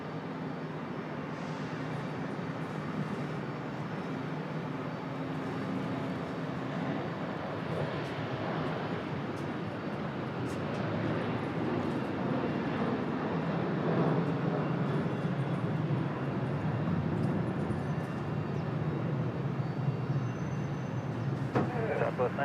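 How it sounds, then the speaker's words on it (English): An American Airlines Boeing 737 rolls very slowly along the taxiway at Raleigh Durham airport, a steady, moderately loud jet engine rumble and whine that holds evenly throughout without any sharp change. "the American 737 on the move. Very slow roll for this one"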